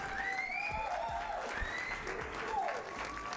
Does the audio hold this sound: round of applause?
yes